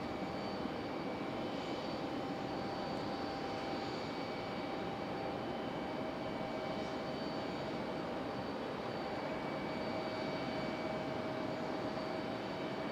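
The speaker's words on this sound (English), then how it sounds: "This one lone CRJ over here ready for departure." A CRJ regional jet readying for departure at Raleigh-Durham hums and hisses steadily, with a faint continuous whine over broadband engine noise from some distance.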